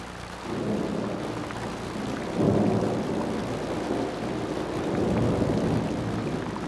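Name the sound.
thunderstorm with torrential rain and thunder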